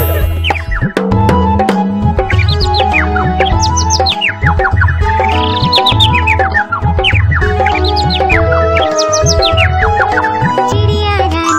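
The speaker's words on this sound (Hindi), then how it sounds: "चू चू करके हमें जगाती" Sparrow chirps in a Hindi children's rhyme, sounding as bright, high tweets repeated through a loud, steady backing of music and singing.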